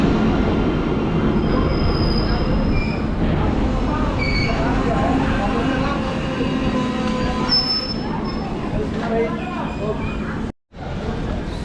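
An Indian intercity express train departing Kishanganj station in Bihar rumbles steadily, with wheels squealing and screeching loudly, while a person talks over the noise.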